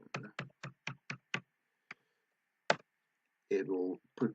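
Keys clicking on a computer keyboard as a phone number is entered, six quick taps in a row followed by a couple of isolated clicks, close and fairly dry, with a voice talking briefly near the end.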